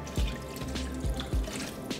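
A cup of water is poured into a pot of rice already mixed with chicken broth, making a few quiet splashes and drips close by with short gaps between them.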